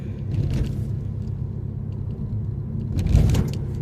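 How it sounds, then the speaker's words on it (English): A car rolls along a Rhode Island street with a steady low engine rumble, jolting over a couple of road bumps that thump louder near the start and end. "You hear these bumps I'm going over?"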